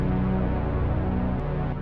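A short, dry synth snippet plays alone with no delay or EQ, giving a steady, dense tone that dips briefly and then continues.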